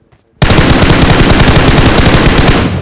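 Dense, continuous automatic gunfire from a mobile battle-royale shooter game, a loud rapid burst that starts abruptly and runs steadily for a couple of seconds.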